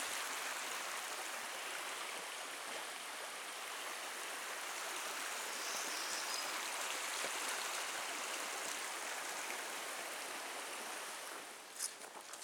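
Water rushes and burbles steadily in Pinkerton Creek in the Porcupine Mountains as a continuous, fairly quiet broadband wash with no voices.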